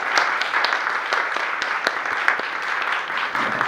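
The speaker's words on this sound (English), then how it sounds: "So an applause for the whole team, please." Audience applause for the team at a hospital CT and MRI ribbon cutting, steady dense clapping with a few sharper individual claps standing out, moderately loud and close, no voices over it.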